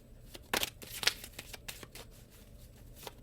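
A 22-card Archangel Oracle deck by Kyle Gray being shuffled by hand, with sharp riffling bursts early on, then lighter repeated card flicks, close up and without speech.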